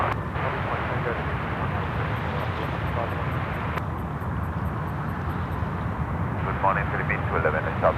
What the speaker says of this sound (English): Bravo A330 300 finals now. Runway 34 left.